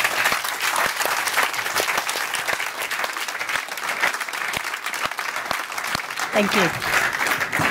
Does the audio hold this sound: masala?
no